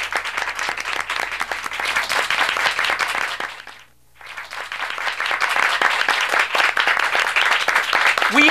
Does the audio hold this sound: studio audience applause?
yes